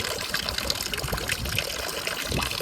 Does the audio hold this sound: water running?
yes